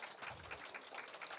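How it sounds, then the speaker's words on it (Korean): Audience applause at an education research conference session honoring two presenters, a short burst of many hands clapping, fairly faint and diffuse, with no speech over it. "훌륭한 발표와 토론을 보여주신 두 분께 큰 박수 부탁드립니다"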